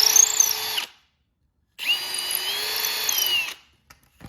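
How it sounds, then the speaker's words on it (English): Power drill boring into wood while building a bird feeder, two loud whining bursts of steady motor drone, about one second and then nearly two seconds, separated by silence, close up with no talk. "now I take that out and drill it further."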